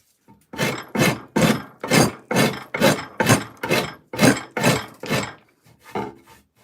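A round rasp works a maple selfbow in long, even strokes, about a dozen rhythmic scrapes close by with brief pauses between them and no talking.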